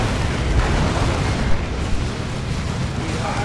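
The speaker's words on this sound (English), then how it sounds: "Kisuke is going to want to use that orbital bombardment." Orbital bombardment from the Dawn of War II: Retribution strategy game, a sustained roaring rumble of blasts with a sharper boom near the middle, loud and dense throughout with faint voice mixed in.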